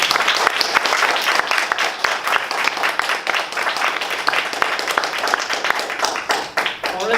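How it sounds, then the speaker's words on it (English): Audience at a Toastmasters club awards evening bursts into sustained applause, dense and close clapping filling the room for several seconds, a few sharper claps standing out near the end. "So please put a round of applause for all those people."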